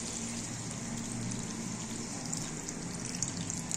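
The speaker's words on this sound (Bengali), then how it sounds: "জল দিয়ে ঢেকে দেব" Water poured into a cooking pot over chicken pieces, a soft continuous splashing and trickling heard close and fairly quiet, with no talk.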